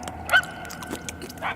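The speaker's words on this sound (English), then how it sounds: "The barks are getting louder at least." A dog gives a few brief barks and yips, small and moderately faint within a short moment, against a low hum.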